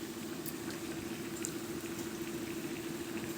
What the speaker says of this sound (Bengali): এখন আমি মাংস দিয়ে দিচ্ছি, সবগুলো মাংস দিয়ে দেব।